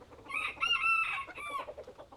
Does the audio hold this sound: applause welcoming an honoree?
no